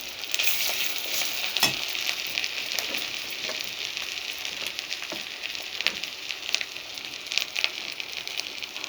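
Spices and chilli powder sizzle in a hot pan as they are fried and stirred, a steady bright crackle with occasional scraping clicks and no talk over it.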